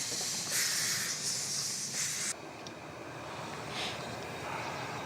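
Steam hisses from an 1894 Austrian narrow gauge saturated steam 0-6-2 tank locomotive, U11 class, in winter: a loud bright hiss for about two seconds cuts off abruptly, then a lower mechanical rumble continues with fainter hisses.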